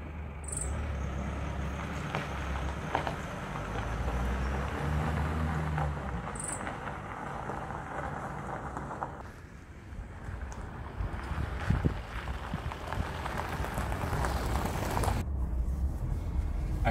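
A Mitsubishi L200 2.2 DiD 150 hp Club Cab pickup drives along, filling the cabin with a steady rumbling road and engine drone and a layer of wind noise, unbroken by talk.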